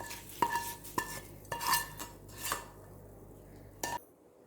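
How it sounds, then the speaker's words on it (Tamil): A spoon scrapes and clinks against a pot while tempering is stirred into snake gourd kootu, giving several sharp metallic taps and scraping strokes that end abruptly, with no voices. "தாளிச்சதை கூட்டில் சேர்த்துப்போம்"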